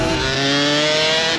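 Aprilia RS 125 two-stroke motorcycle engine labouring at low revs below 8000 rpm, a loud, close, strained buzzing drone with steady harmonic tones, heard alone without talk.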